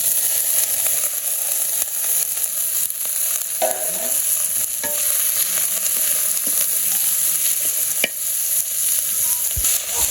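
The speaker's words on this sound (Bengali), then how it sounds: "আমার পেঁয়াজ ভাজা হয়ে গেছে, তাহলে দিয়ে দিব চামড়া।" Pieces of skin hit a pan of hot oil with already fried onions, giving a steady, close sizzle and crackle with occasional stirring scrapes throughout.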